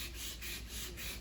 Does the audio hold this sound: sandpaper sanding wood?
yes